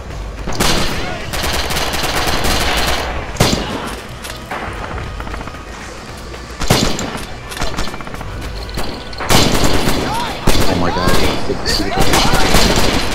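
Loud, dense gunfire from a World War video game rattles almost nonstop in rapid bursts and volleys, punctuated by heavier thumps and booms, with voices mixed into the din.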